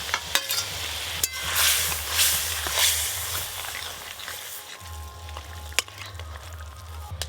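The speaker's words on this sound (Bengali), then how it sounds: "ঝোল খুব ভালো করে ফুটে গেছে, ভেজে রাখা ট্যাংরা মাছ আর বেগুন দেবো।" Fried tangra fish and fried eggplant drop into a boiling curry, setting off a steady sizzle and bubbling with a few sharp clinks and stirring sounds, close and moderately loud.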